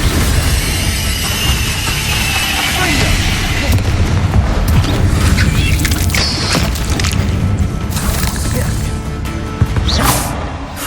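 Spell explosions from Hogwarts Legacy boom and crash loudly in a dense, continuous battle mix, with whooshing spell casts and sharp bursts layered throughout.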